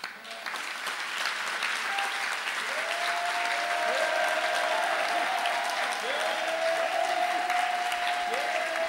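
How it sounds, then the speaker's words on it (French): A church congregation bursts into loud sustained applause and cheering to acclaim the Lord, a dense wash of clapping building over the first second and holding steady throughout, with voices and a few tonal cries mixed in. "ce que tu dois faire, c'est d'acclamer le Seigneur"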